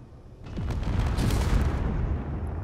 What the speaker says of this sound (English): And you can hear the metal creaking there